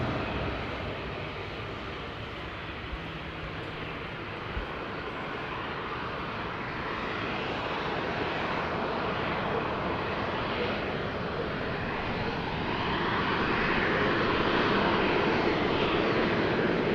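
Transavia airliner engines at Madeira Airport give a broad, steady roar from a distance, slowly swelling louder near the end with no voices.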